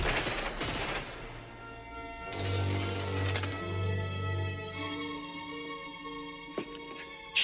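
Glass shatters under gunfire in the Die Hard film, with bright crashing bursts and tinkling debris scattered across several seconds amid a loud action scene.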